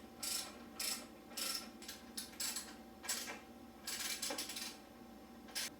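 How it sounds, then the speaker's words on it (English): Bolts on the exhaust flange guard of a KTM 300 XC dirt bike are snugged down with a ratchet, giving bursts of quick metallic clicking with short pauses between them, close and fairly quiet, with no talking. "I'm going to go ahead and snug down both bolts."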